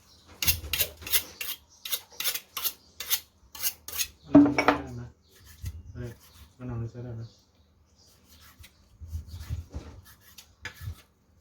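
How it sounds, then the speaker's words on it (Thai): A rapid series of sharp knocks rings out close by, a knife chopping pork belly on a cutting board for Isan-style larb, then a pause and someone speaking before scattered taps resume. "เดี๋ยวปลาเล็กสับหมูก่อนนะคะแล้วค่อยมาดูกันอีกทีตอนลาบนะคะ"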